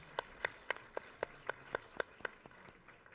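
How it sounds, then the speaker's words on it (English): An audience at a youth tour contest applauds the contestants: a quiet, distant series of about a dozen crisp claps at a steady, even rhythm, with low room noise between them. "let's give all of our contestants another round of applause"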